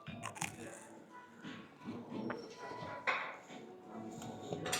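Toasted slices of plain white sliced-loaf bread bitten and chewed at a hotel breakfast, giving close, irregular crunches and munching with soft clatter of cutlery and dishes and quiet background voices.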